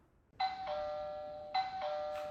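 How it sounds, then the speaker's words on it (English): A two-tone electronic doorbell chime rings twice in succession, clear and bright with a lingering decay, alone in a quiet indoor space. "I opened the door as soon as the bell rang."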